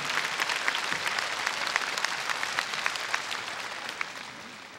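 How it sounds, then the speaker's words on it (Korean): An audience at a 1994 Korean supermodel contest applauds special award winners, with dense, steady clapping from a crowd that holds for several seconds and thins slightly toward the end. "다섯 분에게 다시 한번 뜨거운 박수를 부탁드립니다"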